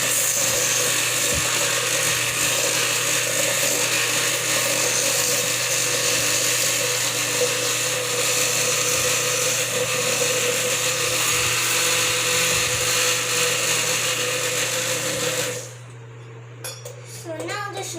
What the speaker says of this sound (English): Then I will take my hand blender